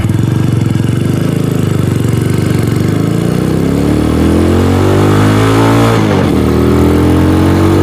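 A 250cc dual-sport motorcycle with new sprockets cruises in third gear, its engine loud and close with a steady throbbing drone, rising and briefly dipping as the throttle shifts near the end.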